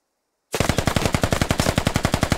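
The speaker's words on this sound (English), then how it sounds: "He was firing an automatic" Squad game rifle fire on full auto: a sudden, loud, rapid burst of evenly spaced shots after a moment of silence, continuing steadily for about two seconds.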